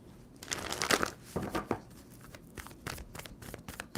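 A deck of tarot cards is shuffled in soft, papery bursts, riffling and slapping quietly at close range in uneven rhythm, with no talk over it.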